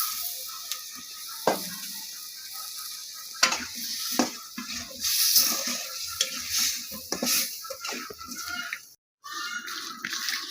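Potato pieces go into a pan of spiced fish curry and cook there. A steady sizzle with stirring and scraping runs throughout, broken by a few louder clatters, a brief silence near the end, and no talk.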